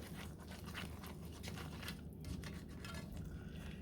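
A spoon stirring smothered pork chop gravy in a pot, close scraping and clinking of metal against the pan over a low bubbling bed.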